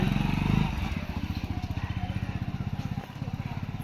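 A small motor vehicle engine runs close by on a street, a steady pulsing putter that holds throughout, with a brief dip near the end, while people talk over it.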